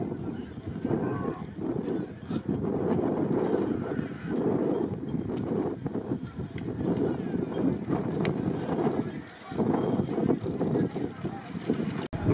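Bullock carts race at a village ground race meet in Ambegaon, with hooves pounding in a continuous dense rumble under a loud, excited commentator's voice and crowd noise.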